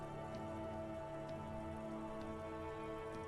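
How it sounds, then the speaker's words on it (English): Rain falling in the video game Disco Elysium, a steady, faint, even patter of drops on surfaces with occasional louder drips, continuous and without talk. "Rain falls down on the world."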